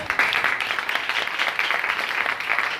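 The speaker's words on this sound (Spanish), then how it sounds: "Denle un aplauso al Señor." A Sunday-service congregation claps for the Lord, a lively, slightly uneven patter of many hands at moderate loudness, steady and unbroken throughout.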